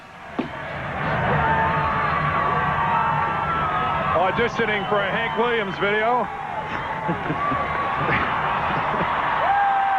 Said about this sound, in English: Crowd in regular season form.